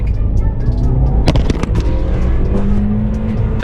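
Toyota Yaris race car driving, a steady loud engine drone with sharp pops and a constant close rumble throughout, no voices.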